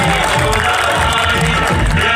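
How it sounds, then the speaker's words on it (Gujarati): A crowd at an Aam Aadmi Party political rally in Chikda village cheers and claps loudly, a dense roar of shouts and applause close and continuous throughout. "તો જોરદાર તાળીઓ પાડીને એમને વધાવીશું"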